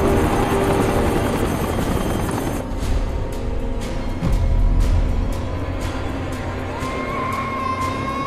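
A military helicopter in a war film spins up for takeoff, its loud rotor chop and turbine whine steady throughout, with a low rumble swelling midway and no talk over it.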